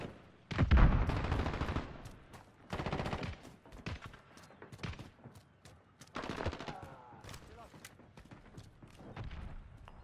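Gunfire in the video game Call of Duty Modern Warfare, with bursts of automatic fire and heavy booming shots in irregular clusters, some near and loud and others fainter.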